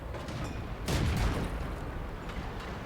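Tank cannon fire in a tank battle game aimed at a T-34-85, one loud boom near the middle with rumbling aftermath over a steady battle noise bed.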